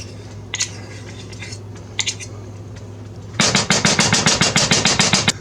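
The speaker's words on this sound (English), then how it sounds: "We stirred in 1/4 of a cup of peanut butter." A spoon stirs peanut butter into melted sugars in a pot on the stove. After a few quiet, sparse clinks come fast, rhythmic scraping strokes against the pot, close and fairly loud.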